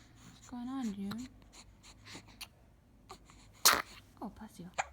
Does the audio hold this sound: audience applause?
no